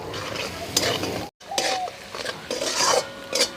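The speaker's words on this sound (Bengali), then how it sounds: "মশলাটা আমি এবার ভালো করে কষিয়ে নেব।" A spice paste of ginger, turmeric, chili powder and salt with onion sizzles in a pan while being stirred, with close scraping and clinking of utensil on metal and a brief silent gap partway through.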